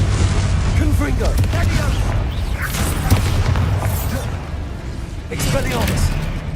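Confringo blasting spells burst in Hogwarts Legacy, a run of booming explosions and crackling pops over dense game noise, with a voice talking throughout.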